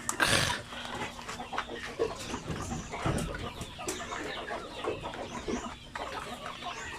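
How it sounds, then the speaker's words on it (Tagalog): Chickens clucking and squawking close by, with several overlapping calls and a few louder bursts over a steady farmyard hum. "Ito ay mga manok."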